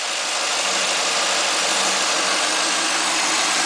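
A 2010 Camaro fitted with a Vararam intake idles steadily just after a cold start, a loud, continuous engine hum with constant vibration and no gaps.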